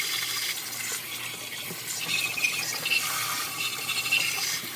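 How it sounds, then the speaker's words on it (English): Hot water runs from a tap over a greasy, grimy engine part being rinsed clean, a steady hissing splash close by with no voices. "So you just rinse it out real good with as hot as you can get water."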